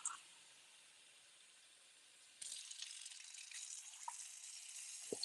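Room-temperature water pours in a steady broadband hiss after a quiet start, close by, with a couple of small clinks near the end.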